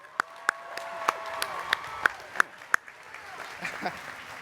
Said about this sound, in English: Can we give another round of applause to him?